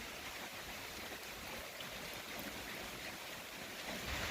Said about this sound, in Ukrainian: А дощик ось так іде.